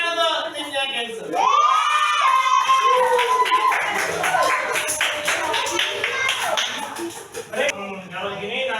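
A group of schoolchildren in a classroom clap and cheer together, a burst of rapid applause mixed with excited shouting and chatter.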